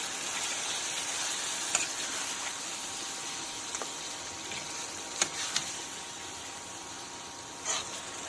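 Chicken pieces and ginger fry in hot oil in a pan, a steady soft sizzle with occasional clinks and scrapes of a utensil stirring, no voices.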